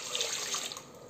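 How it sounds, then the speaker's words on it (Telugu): Water pours steadily from a vessel into a pot of rice being readied for curry biryani, a continuous close splashing stream with no talk over it. "మూడు చెంబులు పోస్తున్నా వాటర్."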